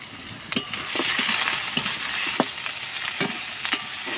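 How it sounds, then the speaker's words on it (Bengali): Onion and garlic frying in a pan, a continuous close sizzle with repeated clinks and scrapes of a spoon stirring against the metal. "এটা ভেজে নিচ্ছি ভালো করে।"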